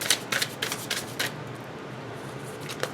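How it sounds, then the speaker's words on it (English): Tarot cards being shuffled, a run of quick crisp riffling bursts close by at the start, then a quieter pause and one last short flutter, with no talking. "we're going to do one more shuffle"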